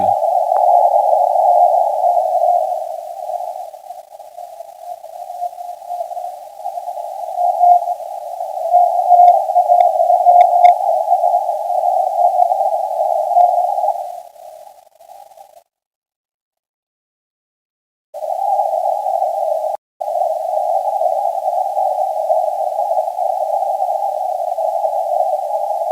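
A ham radio receiver carries a steady RTTY tone from a station calling CQ. It weakens and drifts, drops out to silence for a few seconds, then returns as a constant tone.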